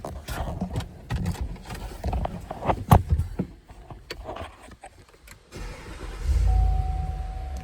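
A 2020 Cadillac Escalade engine cranks and starts after some clatter and movement, then settles into a loud, steady low idle.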